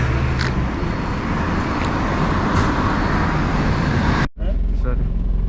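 Road traffic drone from an off-road vehicle on a rainy mountain route between Hatton and Nuwara, a steady engine and tyre rumble that drops out briefly near the end, with a voice speaking over it.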